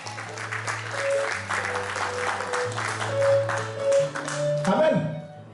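Church congregation at a Sunday service applauding to acclaim Jesus: sustained, loud clapping from many hands with a tonal hum underneath, swelling in places and lasting the whole clip.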